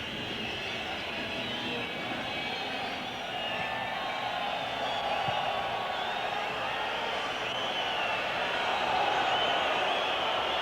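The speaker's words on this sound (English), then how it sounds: "this is the crowd's understandable reaction" Stadium crowd at the 1986 World Cup match between Morocco and West Germany, a steady distant roar and whistling that swells slightly over time and runs unbroken throughout.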